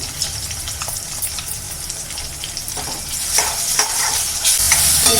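Onion masala paste fries in oil for a spicy Godavari-style pomfret fish curry, a steady close sizzle with occasional scraping stirs and rising crackle toward the end.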